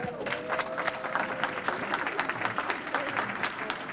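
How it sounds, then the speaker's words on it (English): Steady applause from an audience at a Black Veterans Appreciation Brunch in Boston, dense overlapping claps sustained throughout with faint voices mixed underneath. "Please keep the applause going for the best Boston Veterans Commissioner, Commissioner Santiago."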